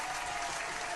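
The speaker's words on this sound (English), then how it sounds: "Can we get some claps for her?" Applause from a studio crowd at the close of a call-in radio show, steady dense clapping filling the whole moment without voices over it.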